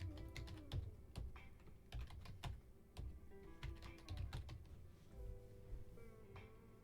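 Computer keyboard typing during spreadsheet data entry, a steady run of quick, close key clicks with uneven rhythm and a few heavier strokes, without talk.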